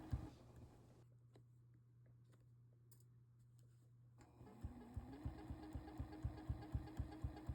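A sewing machine stitches the final inches of a sashiko tote bag, starting with soft clicks and handling noises, then settling into a rapid, regular mechanical chatter of needle strokes growing louder toward the end.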